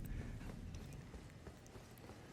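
Rapid galloping hoofbeats of a horse mount in the video game Elden Ring, a steady, dense clatter running throughout at moderate loudness with faint background game sound.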